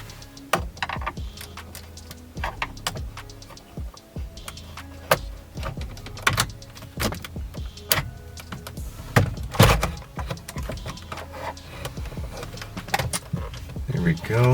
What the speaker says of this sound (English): push it so that it unclips the little fastening assembly that's holding the airbag to the steering wheel